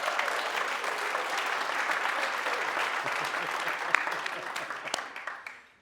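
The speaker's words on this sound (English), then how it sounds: "give each other a round of applause" An audience at a theater division family orientation breaks into a sustained round of applause, dense steady clapping filling the room before tapering off near the end.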